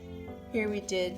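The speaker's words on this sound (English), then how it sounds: "You can hear her meowing for food in the background right now." A hungry female cat on a diet meows for food indoors, two short rising meows close by, with a person talking over them.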